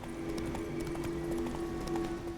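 Steady clip-clop of horse hooves during riding in The Witcher 3, a quick regular rhythm at moderate distance with faint background ambience and no voices.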